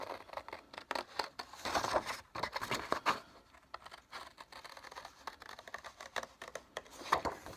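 Scissors snip through paper while a semicircle with a small flap is cut out, a quiet, close series of irregular crisp cuts and light paper rustles.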